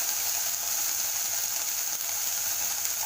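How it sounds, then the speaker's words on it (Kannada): Jowar (sorghum) frying in oil in a pan: a steady, even crackling sizzle, close and continuous, with no talking. "ಇದನ್ನು ಫ್ರೈ ಮಾಡ್ಕೊಬೇಕು."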